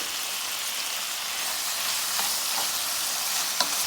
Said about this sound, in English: we're going to cook this until the tomatoes soften up a little